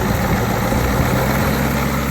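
A Ford 6.9 IDI diesel idles roughly after a fuel swap, giving a loud, close, steady low rumble with a fast knocking pulse that runs through the entire short stretch.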